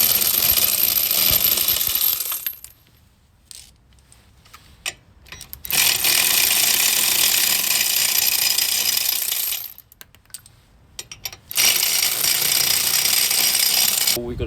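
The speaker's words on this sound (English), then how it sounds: "Right, so we're removing the wheel nuts now." Wheel nuts being removed from a raised Ford Transit Custom van with a power impact tool, three long loud rattling bursts separated by quieter pauses with small clinks.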